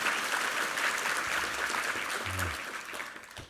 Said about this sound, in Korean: 특선팀과 성가대에게 한번 감사의 박수 드리겠습니다